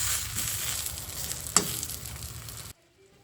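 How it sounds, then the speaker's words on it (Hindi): Eggplant frying in a small amount of oil: an even, close sizzle with one sharp click, cutting off abruptly into near silence at the end. "इसमें ही मैं बैंगन को फ्राई कर रही हूँ"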